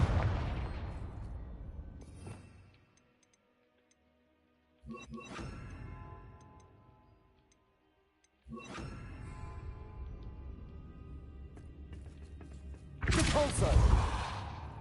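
Confringo fire spell blasts in Hogwarts Legacy, a few separate bursts with crackling decay, the loudest and brightest near the end, with short quiet gaps between them.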